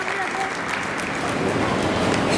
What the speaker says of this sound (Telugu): చప్పట్లు కొట్టి ఆహ్వానిద్దాం.